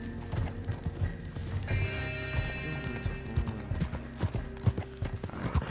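Video game horse hooves clop in an uneven rhythm while the horse gives a long whinny partway through, with faint mechanical clicks in the background.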